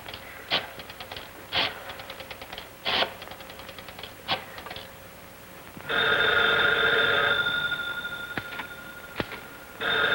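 Sharp mechanical clacks arrive in irregular bursts like typewriter keys, then a loud continuous ringing bell takes over, followed by a few more isolated clicks.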